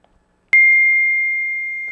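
A single bright phone notification ding strikes suddenly and rings on as a steady, clean electronic tone that slowly fades, loud and alone in quiet.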